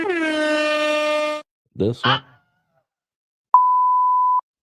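A device plays its stock phone ringtones one after another: a sustained buzzing tone, then two short warbling bursts, then a pure steady beep, each loud and close with silent gaps between.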